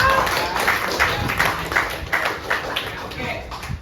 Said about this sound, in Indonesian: Sekarang beri tepuk tangan dulu dong buat kelompok.